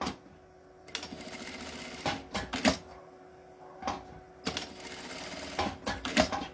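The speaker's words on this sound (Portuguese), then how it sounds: "eu vou passar uma costurinha de cada lado" A sewing machine stitches a small fabric clutch bag strap in several short, irregular bursts with pauses between them, close up and fairly quiet with no talking.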